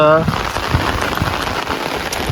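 Heavy monsoon rain pours down in a loud, dense, steady hiss, with a brief voice audible at the very start.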